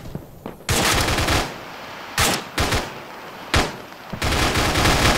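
Video game gunfire rips out in loud, dense automatic bursts, about four long volleys separated by short pauses, with no voices over it.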